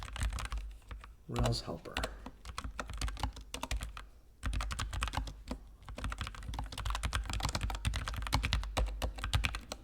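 Steady, rapid clicking of a computer keyboard as Ruby on Rails test code is typed, the close keystrokes running almost continuously while someone speaks briefly.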